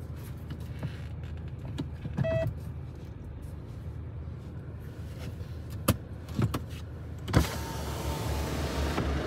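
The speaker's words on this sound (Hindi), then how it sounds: "शीशे चढ़ा लो" Electric power windows whir up inside a Mahindra Scorpio N or Tata Harrier SUV before a drag race, several short motor runs over steady cabin hum and AC noise, with a longer close whine near the end.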